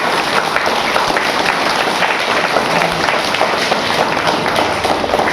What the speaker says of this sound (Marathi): सर्वजण एकदा साहेबांसाठी वाढदिवसासाठी तुम्ही टाळ्या वाजवायच्या